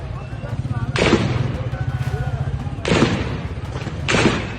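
Gunfire from Pakistan Rangers shooting at Imran Khan supporters at Gujranwala Cantonment, heard as three loud, sharp bursts of shots, with a steady pulsing hum and a voice running underneath.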